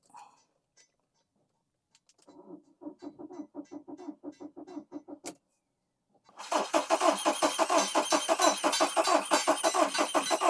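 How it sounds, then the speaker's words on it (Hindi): A VW Vento with an EPC fault cranks without starting: a short burst of rhythmic starter churning, a pause, then a louder, longer stretch of fast cranking pulses that never catch, close up and without talk. "तो इंजन क्रैंक हो रहा है, लेकिन ये गाड़ी अपनी स्टार्ट"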